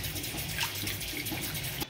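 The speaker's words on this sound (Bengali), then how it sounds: "পুরো জলে ধুয়ে নিচ্ছি আমি, পেটগুলো একটু পরিষ্কার করে ধুয়ে দিচ্ছি" Raw prawns are rinsed by hand in a pool of water, giving a steady, close sloshing and trickling with small splashes throughout.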